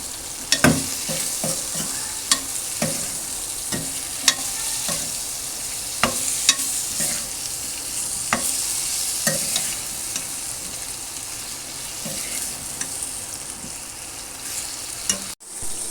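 Garlic pickle cooking in a pan, sizzling and frying steadily while a spoon stirs it with repeated sharp scraping clicks spread across the whole stretch; no talking.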